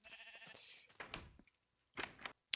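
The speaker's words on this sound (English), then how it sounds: "There's a sheep there." Sheep bleating in the Minecraft Beta video game, a short synthetic bleat heard near and clearly alone, followed by brief game sounds and a sharp click at the end.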